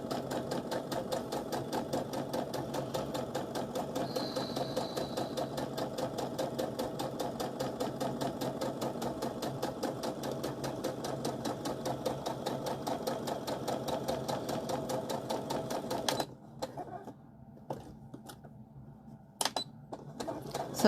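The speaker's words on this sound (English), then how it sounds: "And all we're doing is top stitching." A sewing machine runs steadily, top stitching a fabric casserole carrier with a rapid even needle rhythm for about sixteen seconds, then stops, leaving a few faint clicks and handling sounds.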